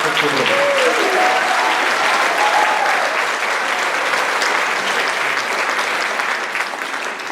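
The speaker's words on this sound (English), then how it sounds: "Round of applause for them." Audience applause fills a school spring band concert hall, dense and steady clapping throughout, loud and close, with a few faint voices beneath it.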